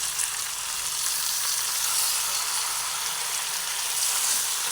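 Chicken sizzling steadily as it is sautéed in oil in a pan for a dark, slow-fried chicken curry, a constant close frying hiss with no voices.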